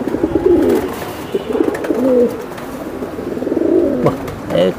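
Pigeons coo in repeated low, rolling phrases, several overlapping calls close by, with faint bird chirps and background noise between them.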